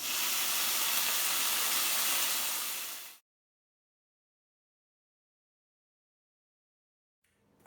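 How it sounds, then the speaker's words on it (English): Vegan yuba bacon frying in a hot pan with a little oil gives a loud, steady broadband hiss and sizzle for about three seconds, then cuts to silence before a brief sound returns at the end. "So I'm just gonna cook my bacon now."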